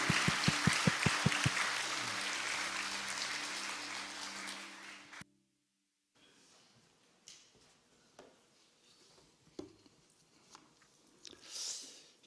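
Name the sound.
congregation applauding in church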